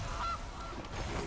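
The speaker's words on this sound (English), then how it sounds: "Play ourselves a goose." Goose honk as a card sound effect in MTG Arena, a single short nasal honk over faint background game ambience, quiet and alone without talk.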